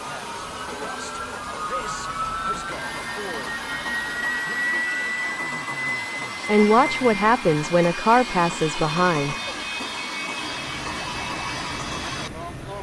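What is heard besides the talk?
large turbofan jet aircraft engine running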